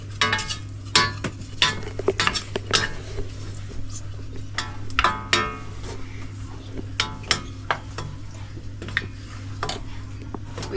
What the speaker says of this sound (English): so just keep mixing until the marshmallows are melted